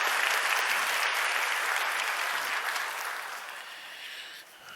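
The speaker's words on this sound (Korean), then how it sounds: "여러분들 환영의 박수 부탁드리겠습니다." A church congregation applauds to welcome visitors during a Sunday worship service, a dense, steady wash of clapping from many hands that gradually fades toward the end.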